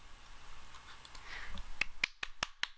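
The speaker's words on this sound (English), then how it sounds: "Sorry, I'm clapping." One person claps hands during a live art tutorial reaction, five sharp, close claps spaced a little unevenly, following a soft background murmur.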